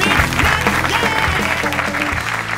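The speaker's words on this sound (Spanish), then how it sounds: "¡Fuerte aplauso a David Broncano en the stage!" A studio audience applauds and cheers for comedian David Broncano on stage during a live comedy show, with loud clapping mixed with voices and some tonal sounds underneath.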